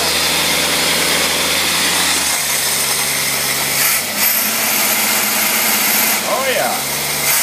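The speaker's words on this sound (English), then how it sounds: "put it in the dyno, put it in gear and see if it'll even put out any torque at all" A Ford single-barrel engine runs in gear on a dyno, a steady close mechanical drone with vibration that dips and shifts pitch partway through, with voices mixed in.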